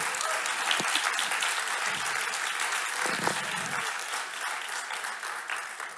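An audience applauds after an excerpt from Vilnius City Dance Theatre Low Air's piece Me Too, choreographed by Airida Gudaitė, at a national culture forum opening; steady, dense clapping fills the room and tapers slightly near the end.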